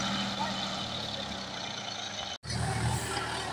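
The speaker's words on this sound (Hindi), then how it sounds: "यह देखिए जॉन डियर ट्रैक्टर 5105 से मिसते हुए" A John Deere 5105 tractor runs while threshing wheat on a farm, its engine a steady close drone with one sudden brief dropout, and someone talks over it.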